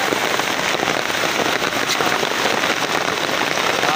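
Heavy rain pours down in a steady, dense roar, loud and close throughout with no voices.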